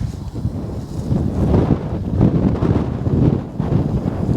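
Wind gusting across the microphone during a V-Coptor drone flight outdoors, a steady loud low rumble that swells and buffets continuously.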